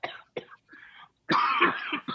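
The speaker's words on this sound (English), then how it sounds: "Coughing up a lung over there" Coughing fits from a man off to one side of a casual podcast-style sports talk recording: a few short, hacking coughs, then a longer, harsher burst of coughing and throat clearing, fairly close.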